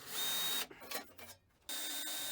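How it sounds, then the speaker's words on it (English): A power drill whines steadily while drilling holes in a metal lathe panel, cuts out briefly with a few softer sounds, then starts whirring again. The sound is fairly quiet overall. "I'm able to drill and tap the holes to hold that panel on"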